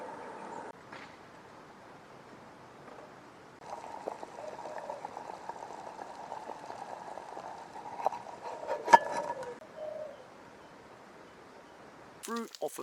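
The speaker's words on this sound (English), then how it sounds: "You can hear this thing boiling in here now." A pot of water boiling on a wood-fired Turk stove fed with hard Aussie eucalyptus wood, a quiet steady bubbling and hiss with a few sharper pops and clinks, heard outdoors from close by.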